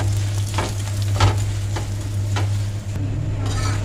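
Laccha paratha sizzles steadily in ghee on a hot pan, with a continuous close frying crackle and a few sharper spatters, brief scraping or turning touches, and no voices.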